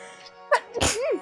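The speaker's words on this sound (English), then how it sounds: "I'm sneezing." A single person sneezes once, a short gasping intake followed by a sharp, loud burst, up close.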